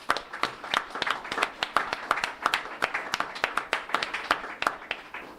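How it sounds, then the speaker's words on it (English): A small group at a city council community meeting claps in scattered, distinct individual slaps, a modest round of applause that stays fairly quiet and uneven throughout. "Can we please do a round of applause?"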